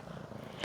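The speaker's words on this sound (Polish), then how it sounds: "Ciekawa jestem, czy będziecie słyszeć, jak mruczy." A young tabby cat purrs in a soft, close, continuous rumble, faint and very brief.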